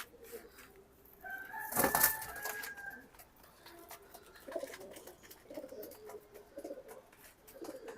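Racing pigeons coo softly in short, repeated phrases at a low level, with a brief louder burst of sound early on.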